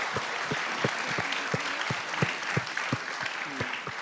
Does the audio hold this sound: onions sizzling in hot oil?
no